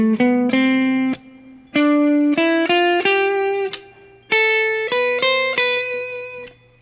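Guitar notes and chords are picked in a syncopated rhythm with brief pauses between groups, ringing clearly and close up.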